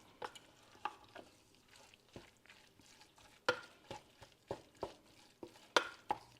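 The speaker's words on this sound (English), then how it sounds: "cook it until all the pink is gone out of the meat" Taco meat frying in a pan, with a faint low sizzle under repeated sharp scraping clicks of a utensil stirring it, arriving in irregular bursts up close.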